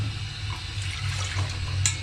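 Tap water running into a glass while two glasses of water are measured out in a home kitchen: a steady, close splashing and gurgling stream, fairly loud and continuous, no talking.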